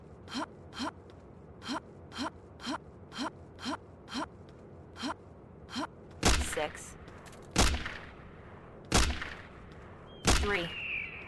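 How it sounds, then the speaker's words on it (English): Four loud, sharp gunshots spaced a second or so apart in the video game Jurassic Park: Trespasser, preceded by a steady run of short rhythmic puffs. "Eight shots."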